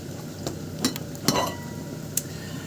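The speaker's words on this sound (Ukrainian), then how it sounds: "спочатку положила цибульку, підсмажу" Onion fries in a pan in a home kitchen, a steady soft sizzle with a few sharp clinks and stirring scrapes of a utensil.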